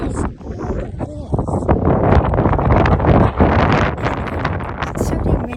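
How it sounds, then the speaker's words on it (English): Gusty wind buffets the microphone on a hiking trail in the Calanques near Marseille, a loud rough rumble that swells and dips, with a voice talking faintly at moments. "It's starting windy."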